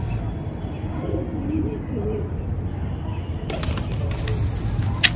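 High-flying female Andha pigeons coo softly up close, then bursts of wing flapping break out in the second half, with a sharp flutter near the end.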